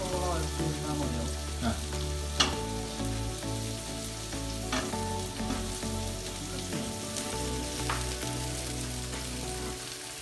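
Half a kilo of onions frying in oil for an Indian-style kangaroo fry, a continuous crackling sizzle with occasional stirring clinks and a low steady hum underneath, no talking.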